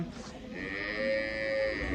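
A Cholistani Friesian cross cow gives a long, drawn-out moo at moderate distance, rising and holding steady over faint farm background noise.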